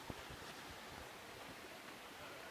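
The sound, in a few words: running water of waterfall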